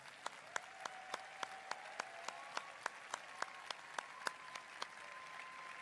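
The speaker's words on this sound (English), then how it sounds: "Graduates, let's give them a great big hand clap." At a Bible college graduation ceremony, the audience claps in a quiet, strikingly regular rhythm of sharp single claps at an even pulse, heard from a distance over a faint sustained tone.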